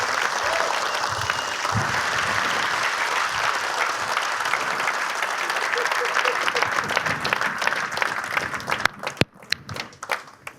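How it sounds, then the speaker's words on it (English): A conference audience gives partners a long round of applause, dense clapping that fills the room before thinning into scattered claps near the end. "A huge round of applause."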